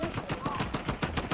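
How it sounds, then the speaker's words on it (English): Rapid automatic gunfire from an enemy in Fortnite, a quick run of about ten evenly spaced shots at moderate distance, fairly faint and without talk. "That lady, that's shooting at us right now."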